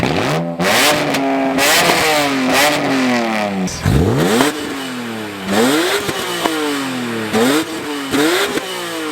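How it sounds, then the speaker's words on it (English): A BMW E46 M3 with a straight-pipe exhaust revs repeatedly in sharp, rising bursts, each climbing and dropping back, loud and close, with a metallic rattle from an unclamped joint; no talking. "I'll give it a bit of a rev, but we've got that rattle because of that little O-ring inside"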